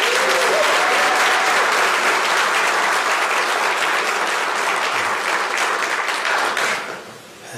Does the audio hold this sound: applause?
yes